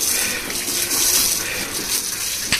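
Water pours and gushes steadily over Oreo, a pet dog being bathed to cool off in intense heat, with a brief louder splash near the end and no talking.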